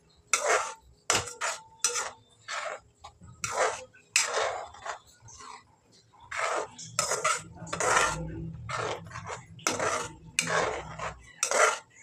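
A spoon stirs kheer with added milk in a pot, producing repeated loud metallic scrapes and clinks in an uneven rhythm, close up, with no talking.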